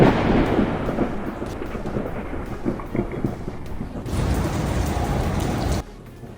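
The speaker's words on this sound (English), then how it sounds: "Under stormy skies in New York, a bolt of lightning strikes One World Trade Center" Thunderstorm over New York with lightning striking One World Trade Center: steady heavy rain hiss and a low thunder rumble, a louder burst of downpour toward the end before it cuts off.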